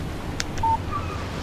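A short electronic phone text-message alert in the video game Alan Wake: two soft high chirps followed by a clear steady tone, sounding alone over faint background hiss.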